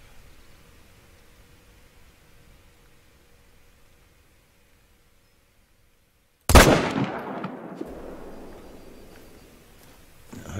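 A single sharp, loud rifle shot fired at a whitetail deer about 200 metres away in theHunter: Call of the Wild, bursting out of near silence and trailing off in a long rolling echo.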